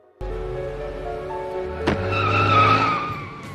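A car pulls away hard from a standstill at a red light, a loud sustained engine roar with a sharp tire squeal rising midway and holding to the end, close and without talk.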